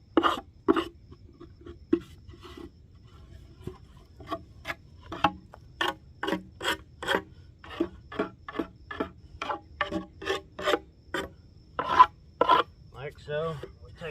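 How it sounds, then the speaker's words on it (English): A hive tool scrapes a wooden beekeeping frame clean, producing repeated short rasping strokes in an uneven rhythm, close and fairly loud against a quiet background. "get these corners really well. Scrape it all down."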